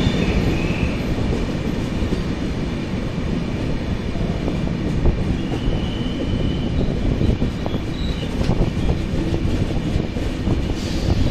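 The 12124 Deccan Queen Express running from Pune to Mumbai, heard from inside the train: a loud, steady rumble with rolling wheel noise and faint squeals, continuous throughout.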